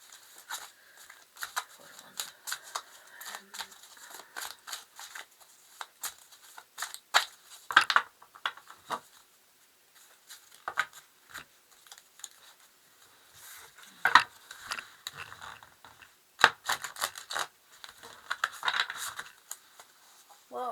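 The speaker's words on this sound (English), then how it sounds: "I'm just going to shuffle them." A deck of tarot cards is shuffled by hand, with soft papery riffles, slaps and flicks coming in irregular bursts, fairly quiet and close.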